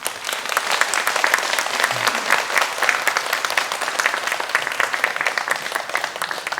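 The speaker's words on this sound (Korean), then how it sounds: "크게 한번 박수 한번 치실까요?" A church congregation gives loud, sustained applause throughout, a dense even roar of clapping that welcomes a returning missionary couple at a Sunday service.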